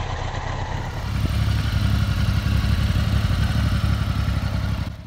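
A Triumph Daytona 1000 motorcycle with a transversely mounted four-cylinder engine runs close by, giving a steady, loud, low mechanical drone that holds even throughout with no speech.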